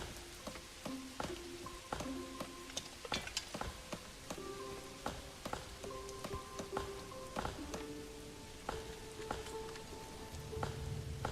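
Rain patters steadily in the game Manor Lords, with soft drops spread over the whole span, broken by sharp clicks and short musical tones from the game's interface.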